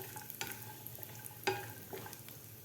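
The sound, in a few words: dry fruits frying in ghee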